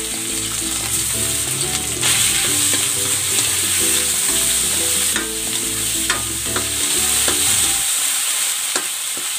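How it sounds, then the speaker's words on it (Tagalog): Shrimp frying in cooking oil in a pan, a steady loud sizzle with stirring and scraping clatter throughout, ending abruptly near the end. "Maglalagay ako ng cooking oil. Ayan, lulutuin ko muna ng bahagya itong hipon."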